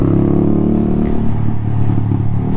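A Honda Monkey 125 small motorcycle's exhaust, a steady close low engine drone with a slight clattering edge, loud and continuous throughout with no talk.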